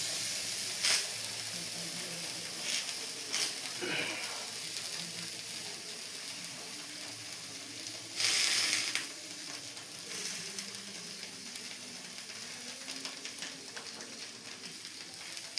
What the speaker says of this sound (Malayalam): ഇനി കിഴി നമുക്ക് ചട്ടിയിൽ വെച്ച് വേവിച്ചെടുക്കാം.